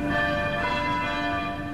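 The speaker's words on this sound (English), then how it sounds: "an 11 a.m. moment of silence, interrupted only by church bells" Sustained ringing of church bells during an 11 a.m. moment of silence at a memorial, with a long, humming resonance, steady and moderately loud against a faint background.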